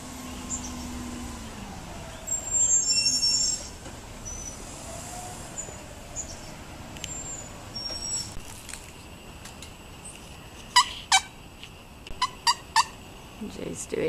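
A person outdoors imitates a wild turkey with a series of short, sharp clucks and yelps near the end, after a fainter low gobbling earlier. Background rumble and quiet speech can be heard.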